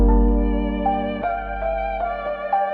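Vintage sample pitched down 700 cents, with keys and bass, heavy low bass tone under sustained chordal keys that shift every half second or so, warm and loud with no voices.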